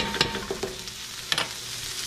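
Celery and other vegetables are stir-fried in a hot pan, a soft steady sizzle broken by a few scraping stirs and light clacks of the utensil, close and fairly quiet.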